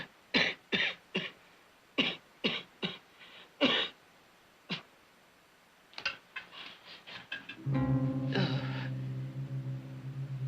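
Person coughing in a classic Western TV drama: a series of about eight sharp, close coughs with gaps between them, then a few rougher coughs that run into a sustained tonal passage.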